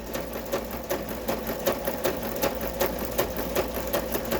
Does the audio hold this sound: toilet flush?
no